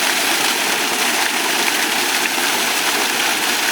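Cow dung slurry from a farm cowshed housing Desi and Hallikar cows pours steadily into a pit, a continuous loud broadband rush like a waterfall, with no voices.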